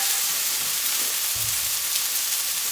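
Prawns fry with a spoonful of garlic masala paste, giving a dense, even hiss of sizzling oil with a soft low thump partway through.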